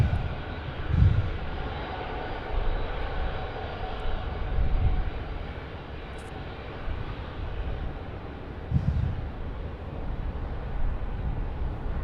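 An airliner takes off at Sydney Airport into a strong headwind, its engines a steady distant roar with a few swelling gusts of rumble and no talk.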